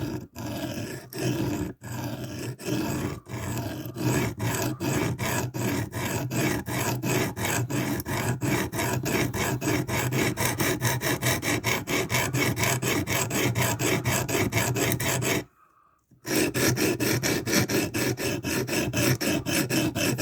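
A knife is sharpened on a KME sharpening system stone in steady, continuous back-and-forth rasping strokes, close and fairly loud, with a brief pause near the end before the scraping resumes.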